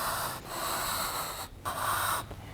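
Close, raspy sanding strokes of a block on a wooden Bowie knife handle, a few long rubbing passes separated by short breaks.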